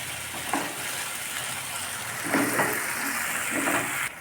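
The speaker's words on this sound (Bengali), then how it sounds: "মিনিট খানেক ভেজে নিতে হবে।" Onions sizzling in hot oil in a pan for doi katla fish curry, a steady close crackle and hiss with occasional stirring scrapes.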